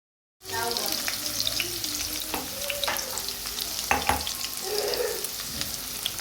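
A poha tempering of chillies, mustard seeds, peanuts and onion fries in a pan with salt, loud close sizzling under repeated scraping and knocking of a spoon as it is stirred.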